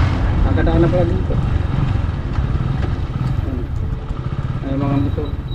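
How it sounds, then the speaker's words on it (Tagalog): Several motorcycles rumble past nearby, engines droning and revving over steady road noise, with no talking. "Ay mga motor."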